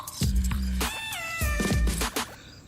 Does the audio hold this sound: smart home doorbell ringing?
no